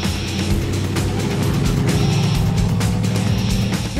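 A radical 1953 Studebaker restomod making about 1000 horsepower drives along with a steady, loud, smooth engine drone and road rumble, heard from inside the car with no talking.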